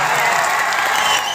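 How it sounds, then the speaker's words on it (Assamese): An audience at a Bihu comedy show claps steadily, a dense, continuous burst of applause from a crowd, loud and close, with no talk over it. "তো মোৰ মাজনীৰ কাৰণে এটা হাত চাপৰি মাৰি দে তহঁতে"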